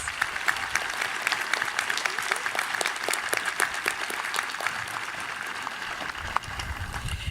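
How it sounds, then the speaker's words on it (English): Crowd at a high school commencement ceremony applauding school board trustees, a dense, even wash of clapping from a large audience, moderately distant and sustained for several seconds. "Let's give them a round of applause"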